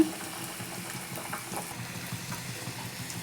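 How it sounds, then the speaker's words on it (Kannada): Badam puri dough pieces frying in hot oil, a steady bubbling sizzle with soft crackles running evenly throughout, close and moderately loud with no voices. "ಎಣ್ಣೆನೂ ಬಿಸಿ ಆಗಿದೆ ನಾನು ಇವಾಗ ಒಂದೊಂದೇ ಹಾಕ್ತಾ ಇದ್ದೀನಿ"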